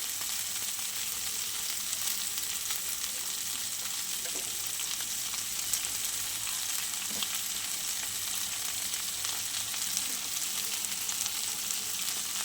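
Chopped garlic and green chillies fry in a pan with a steady, even sizzle that continues without a break, moderately loud and alone, with small clicks and stirring.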